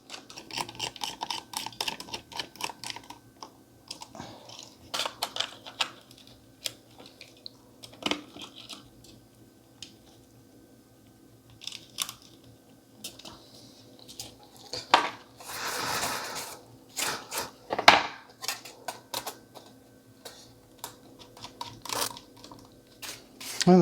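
Small screws are fitted back into an HP 2760P laptop keyboard, producing scattered light metallic clicks and ticks, close and fairly quiet, with a brief louder rustle near the middle.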